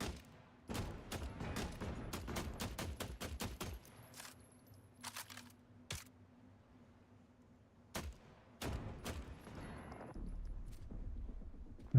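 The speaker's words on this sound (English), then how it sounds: "Now, is that ricocheting and hitting my hull here?" Bullets ricocheting off a hull in The Last Caretaker come as rapid clusters of sharp cracks and impacts, fairly distant and thin, with brief pauses between bursts.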